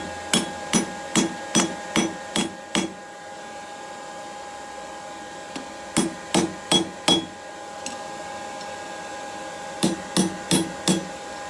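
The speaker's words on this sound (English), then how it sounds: "I'm actually just going to try on the edge of the anvil." Hot steel tongs struck on the edge of an anvil during blacksmith forging: three bursts of sharp ringing hammer blows, about five to seven rapid strikes each, loud and close, separated by pauses with a steady background hum.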